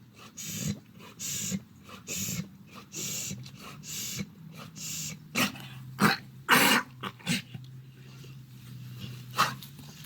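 A dog makes a series of short, snorting, cough-like bursts, irregular and fairly close, spaced over several seconds against a low steady background hum.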